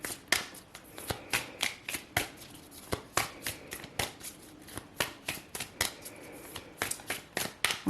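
Tarot cards are shuffled by hand in quick repeated riffles and flicks, a soft rapid papery clatter close by with no talking.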